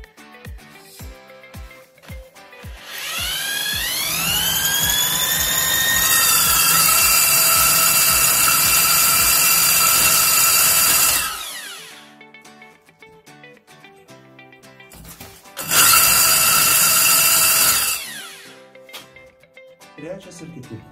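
A power drill bores holes for electrical sockets in a wall, starting with a few sharp knocks, then a long loud whining grind that cuts out, a quieter pause, and a second shorter burst of drilling close by.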